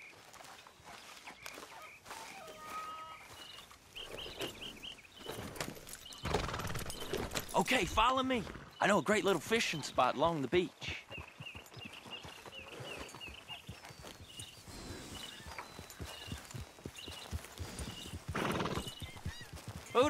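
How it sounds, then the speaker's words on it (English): Horses in the video game Red Dead Redemption 2, steady clip-clop hooves walking with a loud whinny partway through and snorts, under a man's dialogue. "Grab your horse and let's go."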